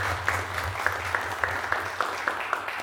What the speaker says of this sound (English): can we just all please give Miss Barbara a big round of applause